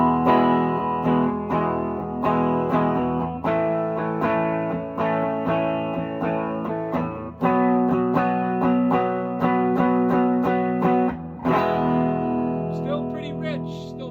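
Electric guitar played through two amplifiers at once plays strummed chords and picked notes with a thick, distorted amplified tone, steady and loud throughout.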